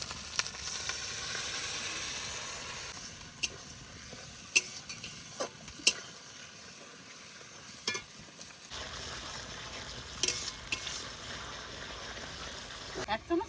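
Dried chilli and black pepper paste frying in a pan with spices and water for a rita fish curry, a soft sizzle under stirring with sharp scrapes and clinks of a spoon against the pan.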